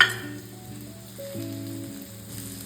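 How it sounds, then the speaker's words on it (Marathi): Garlic and green chili frying in a pan for a restaurant-style mushroom masala, a soft continuous sizzle alone with a faint steady hum beneath it. "त्यासोबतच आपल्याला लसूण आणि मिरची सुद्धा फ्राय करून घ्यायची आहे."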